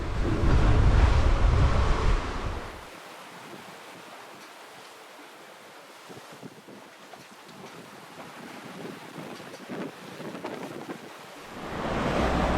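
Wind and sea rushing past a 57ft sailing yacht making about 7.5 knots in 18 to 20 knots of wind, with loud buffeting gusts on the microphone at the start and end and softer hissing water between.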